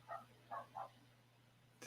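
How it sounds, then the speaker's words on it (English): Three quick barks from a dog inside an apartment, moderately loud and close, spaced over the first second, followed by quiet room tone with a steady low hum. "Does anyone else hear a dog barking?"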